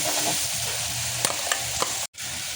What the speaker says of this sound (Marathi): तर याच्यात आता आपलं हे वाटण टाकूया. मस्त भाजून घेऊया ह्याच्यात तेलामध्ये.